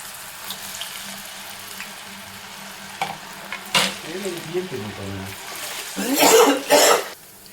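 Baby corn fries in a pan until light brown, with a soft background sizzle broken by clattering stirs and a burst of louder sizzling near the end, plus a brief cough.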